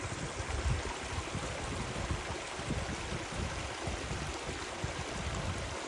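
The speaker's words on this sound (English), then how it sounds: "You can hear that running water there." A small creek running along a forest walking track near Dove Lake at Cradle Mountain, Tasmania, a steady soft babble and trickle of flowing water, continuous and fairly faint.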